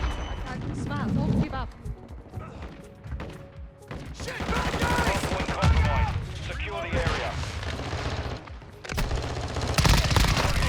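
Kastov 762 rifle fire in Modern Warfare 2, loud bursts of automatic gunfire with sharp cracks and booms dominating the stretch, mixed with game effects and a speaking voice throughout.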